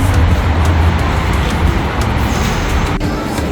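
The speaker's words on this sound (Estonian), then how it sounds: "Kui palju autosid siin linnas on." Car traffic on a busy city street in Kosovo, a steady rumble of passing engines and tyres close by, with a loud vehicle pass early on and no talk.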